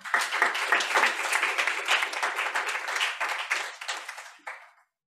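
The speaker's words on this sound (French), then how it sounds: "S'il vous plaît, applaudissez-le." An audience applauds with steady, dense clapping that tapers off near the end, ending in a final burst of claps before silence.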